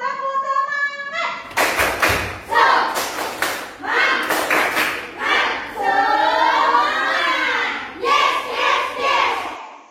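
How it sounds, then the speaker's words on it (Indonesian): A classroom of children performs the rhythmic 'tepuk semangat' spirit clap, bursts of patterned clapping mixed with loud group chanting and shouts, alternating with a teacher's voice. "kita tepuk semangat lagi dulu"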